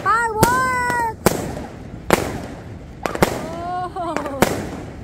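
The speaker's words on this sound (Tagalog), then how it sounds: "fireworks!" New Year's fireworks going off in the rain, several sharp bangs and crackling bursts at irregular intervals, near and loud, with people shouting and whooping excitedly between them.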